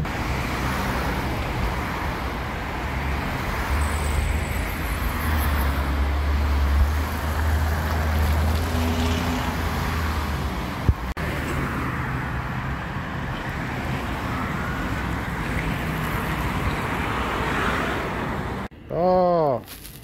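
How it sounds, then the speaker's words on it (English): A school bus with a naturally aspirated gas V8 drives along a Montreal street, its low engine rumble blending with steady traffic and road noise that holds throughout, and a brief rising whine near the end. "Naturally aspirated, gas powered V8, baby."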